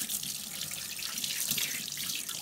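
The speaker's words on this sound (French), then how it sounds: "et vous rincez à l'eau." Hands are rinsed under a running kitchen tap, a steady, soft hiss of flowing water with faint splashing throughout and no speech.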